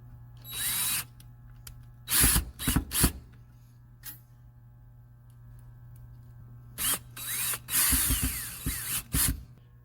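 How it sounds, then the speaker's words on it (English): Power drill driving screws into the film clamp of a double chamber vacuum sealer's sealbar, several short whirring bursts separated by quiet gaps, close and fairly loud. "one by one, you're going to put all the screws in and you're going to tighten them all this time."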